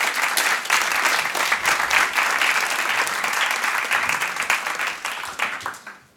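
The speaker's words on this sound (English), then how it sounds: "Please give an applause for them." An audience at a conference plenary session breaks into sustained, dense applause that holds at full strength for several seconds before tapering off at the close.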